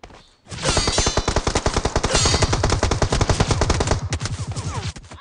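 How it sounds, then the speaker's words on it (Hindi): Sustained rapid automatic gunfire from ahead in a mobile shooter game played on an iPad 9, loud and dense for about four seconds before tapering off into a few scattered shots. "तभी सामने से फायरिंग आता है।"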